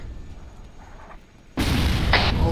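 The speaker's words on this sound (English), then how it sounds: "Mortars! That's close." Loud mortar rounds bursting close by in a military shooter game, a sudden heavy blast erupting after a quieter stretch and followed by a second sharp impact.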